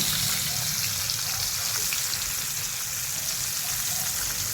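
Two pieces of tilapia frying in a small pan, crisping toward brown: a dense, loud, steady sizzle and crackle of hot oil fills the whole stretch, close up, with no talking.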